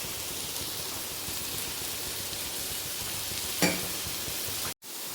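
Onions sizzle and fry in a pan after salt is added, a steady crackling hiss with one brief clatter of stirring before a short cut to silence.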